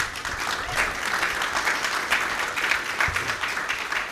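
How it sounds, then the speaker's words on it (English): An audience at a market outlook summit claps continuously, a dense, even patter of applause that holds steady without any voices standing out. "give them a round of applause"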